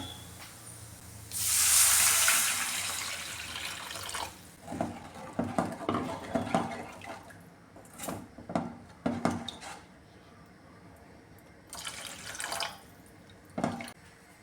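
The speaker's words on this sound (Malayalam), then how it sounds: "ഇനി ഇതിലേക്ക് ആവശ്യത്തിലുള്ള വെള്ളം ചേർത്ത് കൊടുക്കാമേ" Water pours into a pan of papadam curry after the spice powders have heated: a loud, close splashing gush at first, followed by scattered splashes, drips and stirring sounds that fade toward the end.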